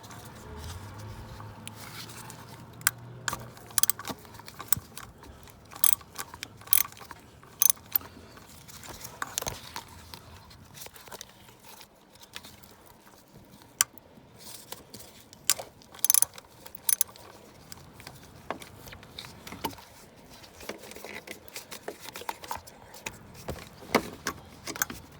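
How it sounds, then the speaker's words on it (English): A ratchet with a 10mm socket working the bolts of the thermostat housing on a 1999 Nissan Altima GXE, quick metallic clicking and jangling in short close bursts, with faint talk at times. "10mm socket time."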